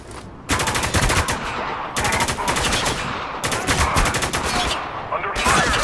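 Heavy gunfire in the video game Spec Ops: The Line, with loud, rapid automatic bursts that come in several long volleys with short breaks between them.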